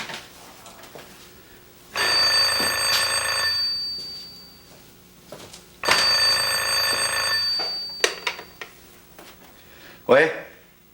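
An old-style telephone bell rings in two long bursts separated by a pause, fairly loud and close indoors, with a short voice right after.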